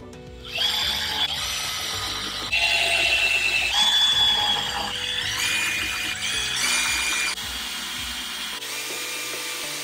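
Power driver running screws into a Jeep exterior trim cover for the Sahara package, with several whirring bursts of varying pitch in close succession, loud and near, no talking.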